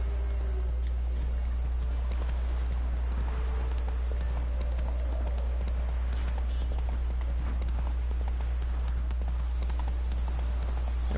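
Steady clip-clop of a horse's hooves galloping in The Witcher 3 video game, continuous and even over a low constant hum, with faint talk now and then.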